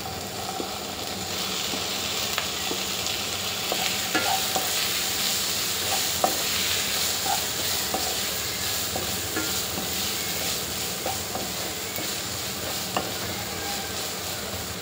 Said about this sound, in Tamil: இதெல்லாம் வதங்கிட்டு இருக்கும்போதே தக்காளியை சேர்த்துக்கலாம்.